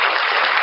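Brief burst of steady group clapping during an online class session, a dense, even patter heard alone without talk.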